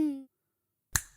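A single crisp finger snap in a cartoon, short and close, heard near the end after a brief sung or voiced tone fades into silence.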